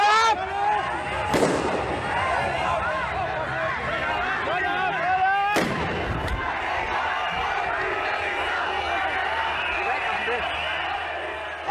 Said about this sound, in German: Alle Böller auf dem Rasen gelandet,